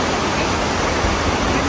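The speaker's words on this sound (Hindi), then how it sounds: "प्लस ये है वाटरफॉल के जस्ट अपोजिट ही है ये रिवर, सब ये है सावा रिवर।" A waterfall and the Sava river rush in the Vrata Valley, Slovenia. The loud, steady broadband roar of water is close and constant, and nothing else is heard over it.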